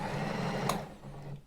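A home-serviced sewing machine runs at full speed with a steady, close motor whir and a rapid needle rattle, and one brief sharp click sounds partway through.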